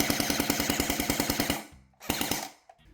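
A WW2-style MP-40 gel blaster fires on full auto at 8.4 volts, giving a fast, loud, even burst of mechanical clacks for about a second and a half, then a brief pause and a short second burst.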